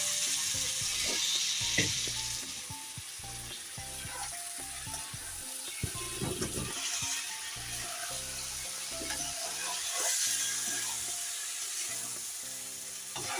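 Potatoes frying in a pan during preparation of a crab curry, a steady close sizzle with intermittent stirring and clatter, faint and even over the whole stretch.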